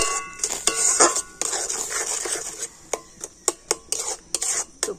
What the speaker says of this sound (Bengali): আর এখন আমি আমের পাল্পটা একটুখানি ফুটিয়ে নেব।